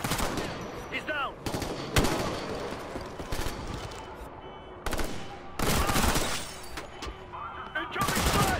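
Heavy gunfire from automatic weapons in Ghost Recon: Future Soldier, with loud rapid bursts, sharp single cracks and the odd shatter, and soldiers' voices calling out between the volleys.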